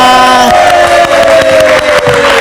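A live studio audience at a late-night talk show cheering and shouting loudly in a dense continuous roar, close and sustained, with a held musical tone underneath.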